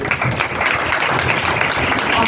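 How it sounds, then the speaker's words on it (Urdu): Audience applause in a church during a sermon, steady and dense clapping from a crowd, continuous for the whole stretch with no pause. "تو ایک دفعہ اپنے لیے زوردار تالیاں"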